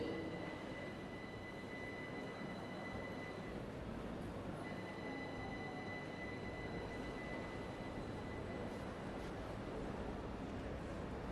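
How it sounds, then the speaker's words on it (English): Class 377 electric train coasting in the Train Sim World 5 game, a steady rolling rumble with faint wheel squeal and a thin high whine, continuous and moderately quiet throughout. "And we'll just let that train coast"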